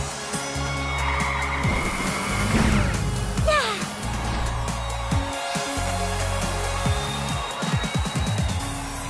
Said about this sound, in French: Attendez que je démarre le moteur.